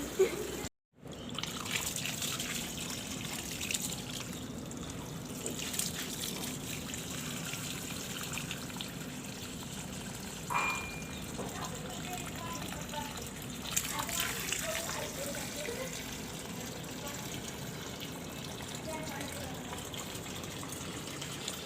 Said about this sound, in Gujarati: જો અહીંયા પાણી બહાર આવી ગયું